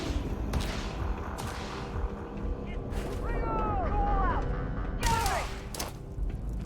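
Gunfire crackles through a firefight in the Starfield video game on PC, with dense mechanical clatter, shots and squealing effects layered under steady background noise as a voice talks.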